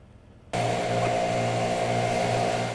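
Leaf blowers used by a hotshot crew to clear fuel at a wildfire, a loud, steady motorized roar that starts abruptly after a half-second of quieter background and holds constant.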